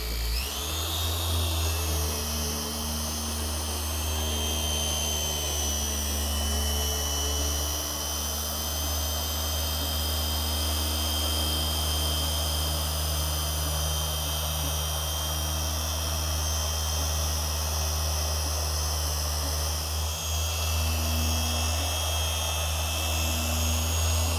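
A Porter Cable polisher runs on car paint, a steady close mechanical whine and hum with a constant motor drone and high tonal overtones, unbroken and loud for the whole stretch with no voices.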